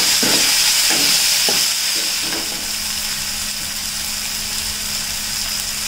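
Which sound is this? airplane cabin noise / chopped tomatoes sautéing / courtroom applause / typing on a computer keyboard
chopped tomatoes sautéing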